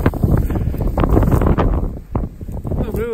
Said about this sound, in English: A little windy up on top.